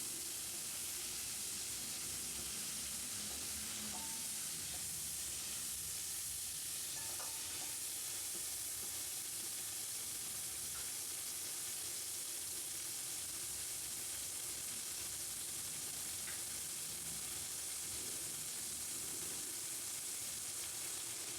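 Onions and chopped tomatoes being sautéed and stirred in a pan, a soft, steady sizzle with occasional stirring scrapes, fairly faint and continuous with no talk.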